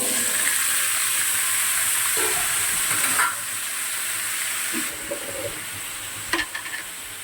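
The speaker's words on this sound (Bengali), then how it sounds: "ঝিঙে আলু যেটা কেটে রেখেছিলাম পোস্ত করার জন্য সেটা ছেড়ে দিচ্ছি তেলে।" Pieces of ridge gourd and potato drop into hot oil and fry with a steady, bright sizzle, broken by a few clinks and stirring scrapes, with no one talking.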